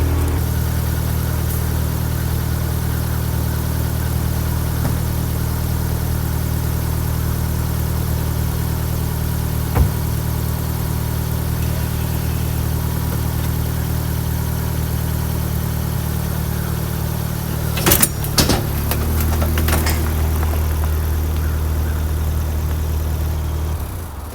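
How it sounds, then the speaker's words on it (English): A car engine idles steadily as the car is driven off a tow dolly behind an RV, a low constant rumble with a few clunks and rattles near the end. "So now I'm just gonna take the car off the tow dolly."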